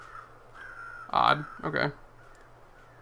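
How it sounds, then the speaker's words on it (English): Crows caw in The Long Dark, two harsh, loud calls close together, with someone speaking briefly before and after. "I don't think the birds are going to attack me."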